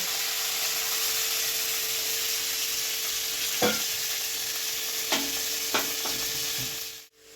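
Spice paste of ginger and green chilli sizzles in hot ghee after a little water is added, a steady frying hiss broken by a few sharp clatters of stirring near the end.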